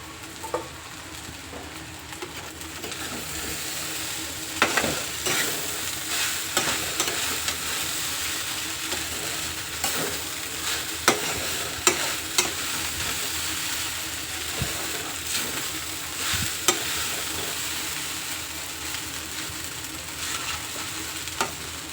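Sabudana khichdi, tapioca pearls cooking in plenty of oil in a pan, sizzles steadily for the whole stretch while a spoon stirs and scrapes it in repeated close strokes, with no talking.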